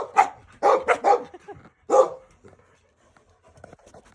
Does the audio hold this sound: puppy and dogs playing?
yes